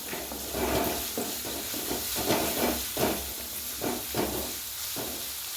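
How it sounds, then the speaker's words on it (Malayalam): A spoon stirs papaya pickle in a pan with a soft repeating scrape and gentle sizzle, the strokes coming in a steady rhythm of roughly one per half-second, close but quiet. "നന്നായി ഇളക്കി കൊടുക്കാം."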